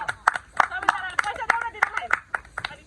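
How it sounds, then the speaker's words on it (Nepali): A few people clap for the winner of a spicy noodle eating challenge. It's a quick, uneven round of close hand claps, about ten sharp slaps over a few seconds, with voices talking lightly underneath. "अनि क्लियर दियो भने दिदीलाई हामी ताली बजाउँछौँ"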